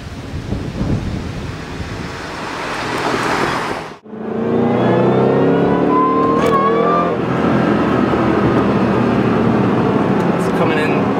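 Roush 427R Ford Mustang with 435 horsepower at full throttle, engine roar and high supercharger whine rising loudly inside the cabin, a brief gap at a gear change, with wind noise and people talking.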